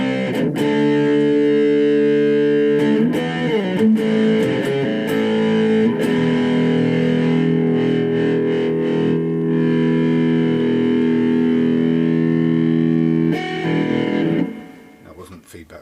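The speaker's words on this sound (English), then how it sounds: "Crank it up, and it does the big sort of rectifier type tones brilliantly well" A Reloved Oakcaster 2 travel electric guitar played through cranked, rectifier-style high-gain distortion, with loud sustained chords and sharp string hits ringing out continuously before fading at the end.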